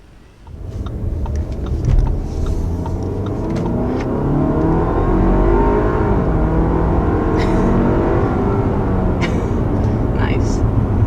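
A 2021 Audi Q5 luxury SUV accelerates hard, its engine note rising and swelling to a sustained, loud roar heard from inside the cabin, with brief voices over it.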